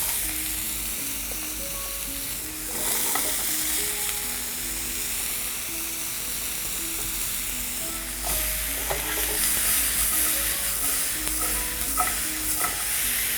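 Zucchini frying in a pan as salt is sprinkled on, a steady close sizzle with stirring and scraping clatters throughout.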